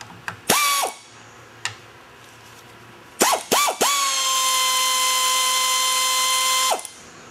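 A power ratchet removes the crankcase cover bolts on a Briggs and Stratton Quantum engine, a loud whirring tool heard in short bursts before one long sustained run, with no talk.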